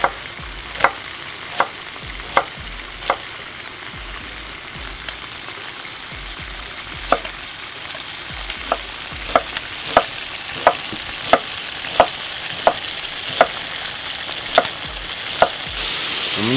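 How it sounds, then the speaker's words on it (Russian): Lamb meat fries in plenty of oil with a steady sizzle, broken by repeated sharp crackles and pops that come more often toward the end, with no talking. "Баранина жарится уже где-то минут 6-7."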